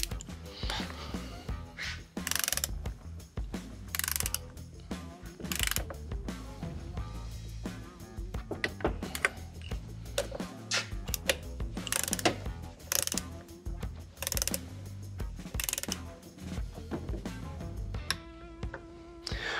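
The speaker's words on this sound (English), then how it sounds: "we're gonna go ahead and torque down our sensors here" A torque wrench tightens sensors on a 246 transfer case from an '04 Suburban, giving scattered sharp ratcheting clicks and metallic mechanical ticks in irregular bursts, close and fairly loud, with no talking.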